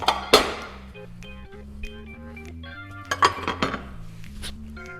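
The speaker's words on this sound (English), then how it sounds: "We'll get the plates out." Hot plates clink and clatter as they are taken out during brunch cooking. There is a sharp clank at the start, then a flurry of ceramic knocks near the end, all over soft background music.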